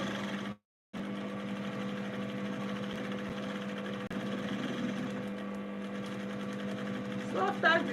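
A sewing machine stitches down the side of a skirt waistline, its steady fast mechanical hum running throughout after a brief pause near the start, close and loud, with a few faint clicks toward the end.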